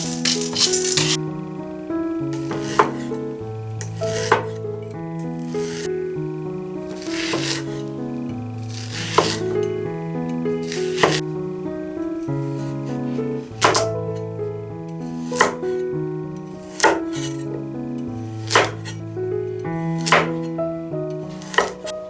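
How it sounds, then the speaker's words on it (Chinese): Coix seeds (Job's tears) dry-fried in a pan over low heat give a repeated dry rattling as they are stirred, in regular bursts under steady background music. "所以不要直接下锅，一定要先炒了再用，就是小火干炒就可以"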